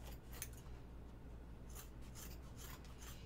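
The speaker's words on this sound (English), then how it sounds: "so let's trim up this one here" Scissors trimming fabric for a sewn pocket bucket, quiet close crisp snips in small bursts over a soft background hiss.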